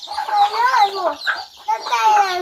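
Hens cluck and chatter in a busy, continuous run of clucks, fairly close, with a few louder squawks rising above the flock.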